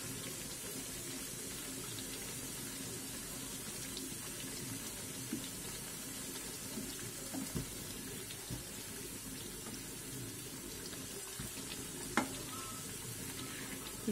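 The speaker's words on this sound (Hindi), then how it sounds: "बार बार पलट पलट के हम इनको सेकते रहेंगे।" Bajra millet and sesame tikkis roast in a pan, giving a steady soft sizzle throughout with occasional faint scrapes and light clinks as they are turned.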